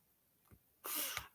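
A single sharp sneeze bursts out after a short in-breath, close and brief, in a quiet indoor setting.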